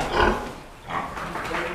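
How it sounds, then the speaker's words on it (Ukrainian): Piglets of about 10 kilograms each, in a small group on a farm, grunt and squeal close by in two or three short, rough bursts, with no voices over them. "Оце у Нюрки такі поросята"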